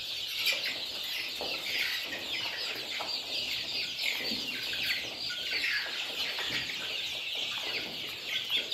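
Chicks in a poultry rearing hall, with water and feed troughs spread across the floor, keep up a steady, busy chorus of high cheeping and clucking that fills the space without pause.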